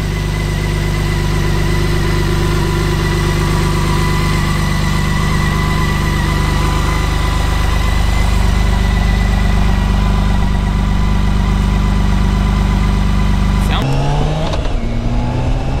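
A 2018 BMW K1600 B bagger motorcycle engine idling close up: a loud, steady mid-pitched hum that holds even throughout, then cuts to a rougher, shifting tone near the end.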